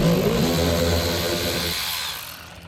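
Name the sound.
power tool removing 7mm screws from Dodge Charger front bumper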